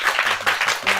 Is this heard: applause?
yes